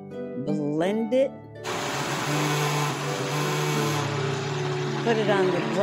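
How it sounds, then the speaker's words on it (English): A blender whirs steadily while mixing an almond milk drink in a kitchen, a loud continuous motor drone starting after brief talk and running to the end. "Put it on the blender till it is nice and smooth."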